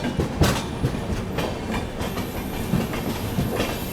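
The Kashi Mahakal Express, an Indore–Varanasi train, runs along the rails past Jhansi, its wheels giving a steady clickety-clack with rumbling and a hissing wash, moderately loud and without voices.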